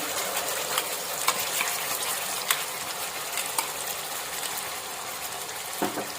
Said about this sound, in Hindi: खसखस का जो ये पेस्ट है इसे हमें बहुत अच्छे से भुनना है